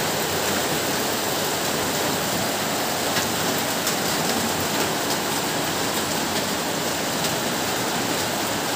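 Heavy typhoon Carina rain pours down steadily in Montalban, Rizal, near the Wawa River, a dense unbroken roar of falling water with no pauses and no voices.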